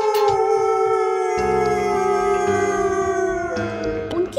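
Sustained, wavering howls ring out together from a pack of jackals, a long tonal chorus that shifts pitch near its end.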